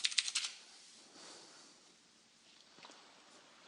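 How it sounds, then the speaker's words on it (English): Fingers type on a computer keyboard. A quick cluster of crisp, close keystrokes opens, then sparser, fainter clicks follow in a quiet room. "I can hear you typing"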